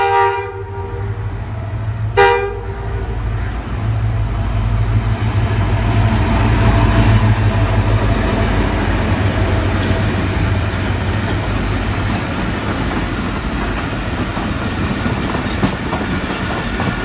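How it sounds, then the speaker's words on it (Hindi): A relief train passes through Malir railway station, a loud steady rumble of wheels and cars rolling by with a brief horn blast near the start, continuing without voices. "अब में एक रिलीफ ट्रेन जा रही है"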